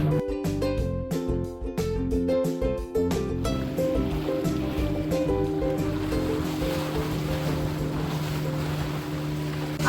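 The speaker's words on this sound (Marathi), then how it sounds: "आता लाटांचा म्हणजे वेग वाढला आहे आणि बोट अगदी एका बाजूने अशी तर एका बाजूने अशी होते" Sea waves rock a small boat on the way to Nivati Lighthouse, a steady wash of water and wind with a low motor hum underneath, dense and continuous with a few heavier surges, no talk.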